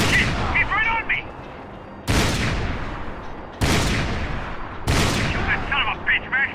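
Four loud, booming gunshots ring out in a video game at irregular intervals, each one leaving a long echoing decay, with faint game chatter between them.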